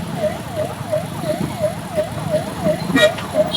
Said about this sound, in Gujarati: એમ્બ્યુલન્સ આવી ગઈ છે